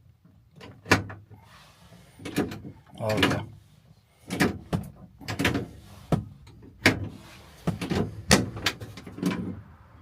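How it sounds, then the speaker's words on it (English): A 1968 Chevelle car door swings and clunks shut several times, with creaks and latch clicks between bursts of someone talking nearby. "Opens up like a brand new door."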